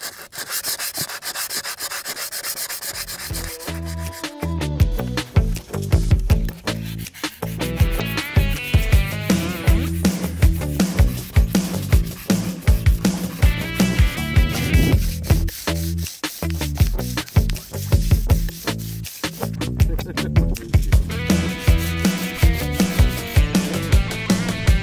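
Rust is sanded off a camper bus in long, repeated rasping strokes that come in close, steady bursts with brief pauses between passes.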